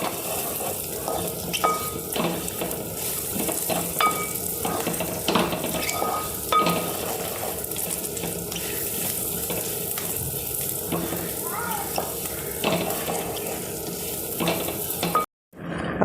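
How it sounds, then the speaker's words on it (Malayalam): Lentils for paruppu payasam sizzle steadily in hot ghee, close and continuous, with frequent scraping stirs and light clinks of a metal spoon on the pan; no one speaks. "അപ്പോൾ നമ്മുടെ പരിപ്പൊക്കെ നെയ്യിൽ വറുത്ത് റെഡി ആയിട്ടുണ്ട്"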